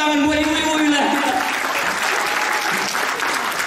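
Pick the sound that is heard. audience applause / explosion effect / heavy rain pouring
audience applause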